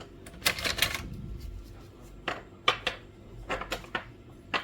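Printheads come out of a Canon G2770 inkjet printer as a handful of short plastic clicks, snaps and rattles, close and fairly quiet, separated by brief pauses.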